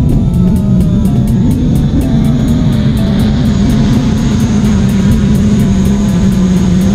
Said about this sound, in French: Voilà, le drone se remet en place, mais il glisse un petit peu.